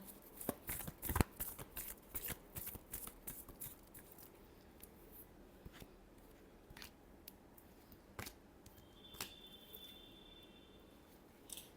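Close, quiet riffling of a tarot deck, with quick bursts of card flicks early on, then sparser single snaps and slides.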